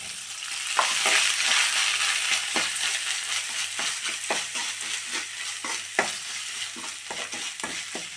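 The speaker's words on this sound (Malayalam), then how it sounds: "ഒരു സ്പൂൺ ഉഴുന്നു പരിപ്പ് നേരിയതായിട്ട് ഫ്രൈ ആയി എടുക്കാം അതിലേക്ക് ഒരു പിടി നാളികേരം" Urad dal and a handful of grated coconut fry in coconut oil in a pan for a drumstick-leaf curry, a steady close sizzle broken by irregular spoon scrapes and stirring clicks, with no talking.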